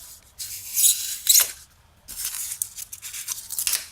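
Close, gritty rubbing strokes as a small diorama accent piece is sanded by hand, coming in short uneven bursts separated by brief pauses.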